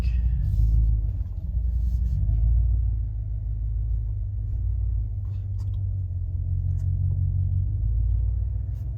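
Car cruising at night, with a steady low road rumble and engine drone heard from inside the cabin that stays fairly even throughout, with no talk.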